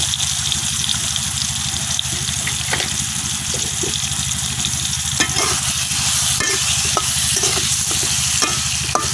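Tomatoes with turmeric and salt being stirred in a sizzling pan, a continuous frying hiss with repeated scraping strokes of the spoon, close and steady throughout, with no talking.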